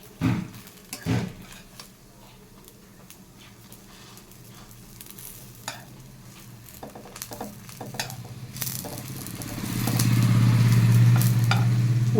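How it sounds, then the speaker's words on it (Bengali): Pitha frying in a pan, giving a soft, steady sizzle with scattered stirring clatter and knocks that swells into a louder, fuller frying hiss near the end. "এক এক করে আমি সবকটা পিঠেই ভেজে নিয়েছি।"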